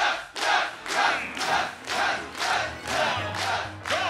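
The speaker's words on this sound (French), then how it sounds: "entendez la foule l'acclamer" A tournament crowd at a Super Smash Bros event cheers and chants in loud rhythmic waves, roughly twice a second, filling the whole space.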